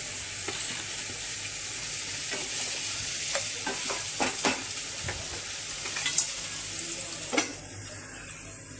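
Paneer cubes fry in hot oil with a steady, close sizzle throughout, broken by scattered clinks and scrapes as they are stirred in the pan; no one speaks.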